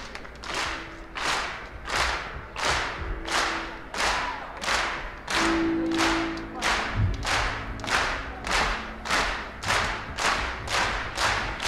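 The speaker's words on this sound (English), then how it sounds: "Maybe clap our hands" An audience at a live 1970s rock concert claps in unison, a steady rhythmic beat of about two claps per second repeating throughout, with a muffled thump and faint sustained tones beneath.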